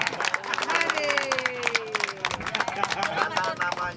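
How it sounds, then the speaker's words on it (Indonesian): An audience at a talk about iron sand mining near Ujung Genteng, Banten, claps along steadily, a dense patter of hands under a lively murmur of voices. "Tepuk tangan dulu. Tepuk tangan."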